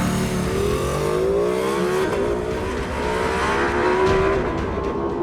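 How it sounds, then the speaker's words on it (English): Ducati Panigale V2 motorcycle with a V-twin engine and loud exhaust, revving steadily and rising in pitch, close and loud throughout with no talk. "you are met with the thunder of the V-twin and its loud exhaust note."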